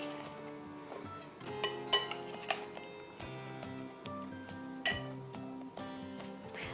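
A spoon stirs berries with maple syrup in a bowl for stuffed French toast, giving light scattered clinks and taps against the dish over a soft, steady wet mixing sound.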